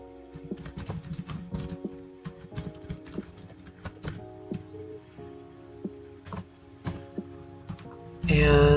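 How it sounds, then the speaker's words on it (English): Rapid, uneven clatter of fingers typing on a computer keyboard, close up and fairly quiet, with short pauses between bursts of keystrokes and a louder bump at the very end. "So I'm typing its details in."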